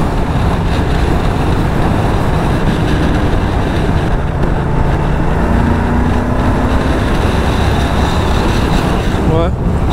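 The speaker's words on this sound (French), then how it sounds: "Et le bruit du moteur est vraiment sympa." Moto Guzzi V100 motorcycle with shaft drive, engine droning loud and continuous while riding on the road, mixed with heavy wind and road noise throughout.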